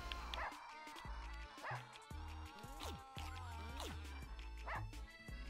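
Dogs in a Russian subway video game yip, whimper and bark in short bursts over a steady music bed, fairly close and loud, with a voice speaking briefly now and then.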